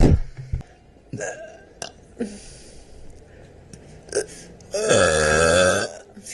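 A woman lets out a string of short burps followed by one long, loud, drawn-out belch near the end, close and clear with quiet gaps between.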